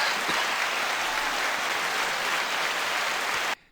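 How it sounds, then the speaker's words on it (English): Dense, steady applause fills the room for a few seconds before cutting off abruptly. "pardon me while I stand up and applaud."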